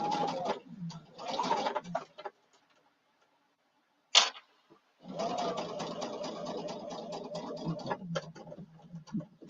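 A sewing machine stitches a narrow 1/8-inch seam in two short runs, then pauses with a sharp click before one long continuous run. The sound is close and fairly quiet.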